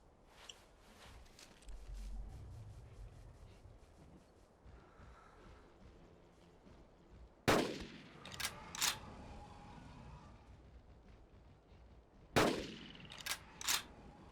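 Hunting rifle shots in the dinosaur-hunting game Carnivores: Dinosaur Hunt, two loud sharp reports several seconds apart, each followed by echoing rumble and clicky reload or mechanical sounds.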